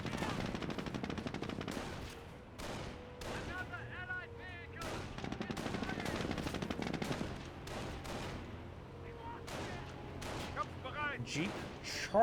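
Rapid bursts of jeep-mounted machine gun fire aimed at Panzer Grenadiers in Company of Heroes, a busy stream of clattering shots and impacts over battle noise, fairly quiet overall.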